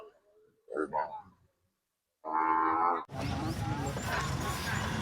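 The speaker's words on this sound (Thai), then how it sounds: "มีวัวนางอยู่สองตัวนะครับตัวหนึ่งขาวตัวหนึ่งแดง" Cattle at a livestock market low and moo, one drawn-out call standing out clearly before a dense wash of crowd noise and market bustle takes over.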